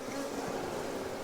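Honey bees in an open beehive make a dense, continuous buzzing hum that is loud and close and fills the whole moment without any voices.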